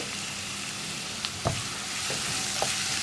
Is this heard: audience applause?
no